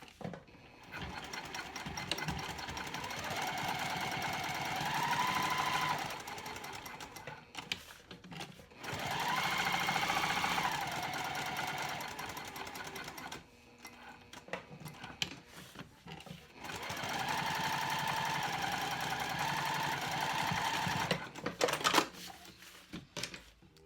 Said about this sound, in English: what I'm gonna do is stitch around the entire square